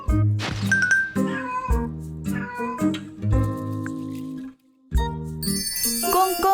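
A pet cat at home, once found on the frozen Han River, gives a run of several close, clear meows with tonal, varied pitch, a short pause, then more meows and bright chiming tones.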